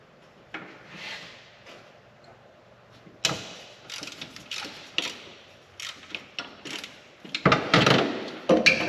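A wrench works the 12mm alternator belt tension bolt on a Daihatsu Midget II, giving a quiet metallic scrape, then a run of sharp ratcheting clicks and clunks that grow louder and closer toward the end.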